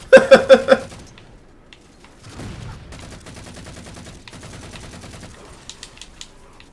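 Gunfire in the Halo 4 campaign: a quick loud burst of about four sharp shots, then a quieter rattling stretch of distant firing and a few faint clicks near the end.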